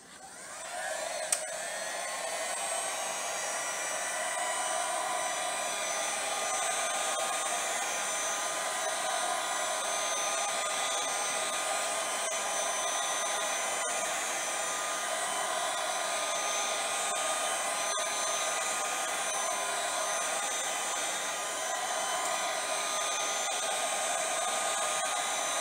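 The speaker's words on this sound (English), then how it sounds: "with the heat gun." Heat gun blowing hot air over a resin sculpture bowl, a steady loud whooshing roar with a high whine that holds evenly for the whole stretch, with no talking.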